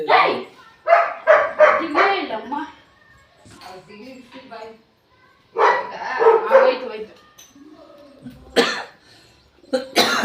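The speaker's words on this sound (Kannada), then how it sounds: "ಬರೀ ನಾಯಿಗಳೇ." Several bursts of barking from dogs nearby, coming in clusters with pauses between, mixed with a cough and occasional voices.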